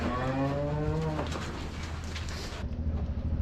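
A cow on a farm during manure hauling gives one long, loud, nearby moo, followed by a continuous rumble of outdoor background noise.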